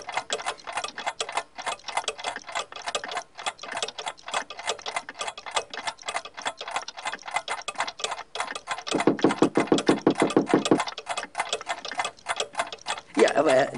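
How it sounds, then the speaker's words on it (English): A shop full of Black Forest cuckoo clocks in a video game ticks away in a busy, overlapping patter, brief louder bursts of rapid clicking rising near the end, with no talking. "Authentic Black Forest cuckoo clocks"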